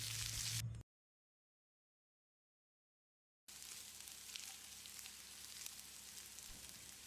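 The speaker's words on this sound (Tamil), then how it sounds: "வெங்காயம் செவக்கிற அளவுக்கு வதக்கிடலாம்." About 200 grams of two large onions, sliced lengthwise, sizzle steadily in a hot pan for Chettinad chicken. The hiss is interrupted by a brief total silence before it resumes.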